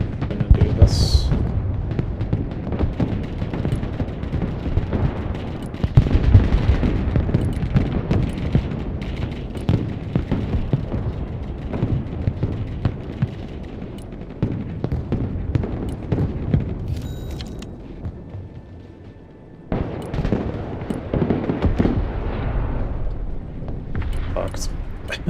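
Rocket explosions in the video game Broken Arrow rumble and boom almost continuously, a dense, loud barrage that briefly dips near the end, with someone talking over it.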